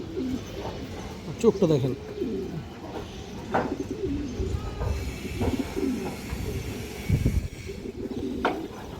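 A large male pigeon with a black tail coos repeatedly in soft, low, rhythmic calls while someone talks close by.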